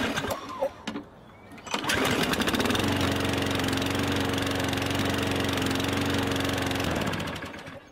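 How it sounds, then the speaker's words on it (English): A push lawn mower engine in Farming Simulator 15 starts after a brief rattle and runs at a loud, steady, droning idle for several seconds before cutting out near the end. "It looks like a push lawnmower."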